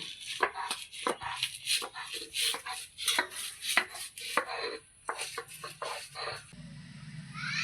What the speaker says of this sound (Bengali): এখানে আছে রসুন কালো জিরে লঙ্কা লবণ ভেজে নিয়েছি এখন আমি পাটায় বেটে নেব এইভাবে বেটে নেব